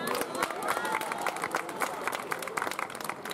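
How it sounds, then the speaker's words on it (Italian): Crowd applause at an outdoor evening event in Cento, Ferrara, with scattered claps mixed into a babble of nearby voices and chatter. "quindi un grazie e un applauso a Marco."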